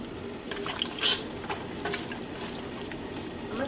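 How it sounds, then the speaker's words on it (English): Water poured into a pot of goat meat for a light soup, a steady close liquid wash and gurgle with faint clinks and stirring, continuous throughout with no talk. "Add some water."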